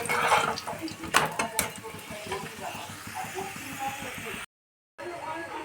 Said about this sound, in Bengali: আমি সাদা তেল দিয়ে ভেজে দিচ্ছি